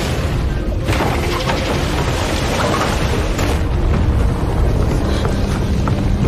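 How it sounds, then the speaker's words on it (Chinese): A dense, loud, continuous rumble with crackling debris noise serves as an earthquake effect in a Chinese fantasy animated series, filling the whole clip with a few sharper booms and no speech. "地震了！"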